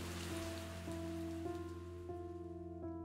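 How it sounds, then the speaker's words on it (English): Rain falls in a forest in a soft, steady patter heard alone at low volume, with a sustained tonal hum running underneath. "the forest soaked up the rain"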